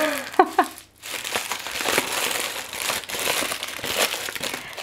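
Baking paper crinkles and crackles up close as it is pressed into a cheesecake tin, with a short sharp rustle near the start and then continuous handling noise.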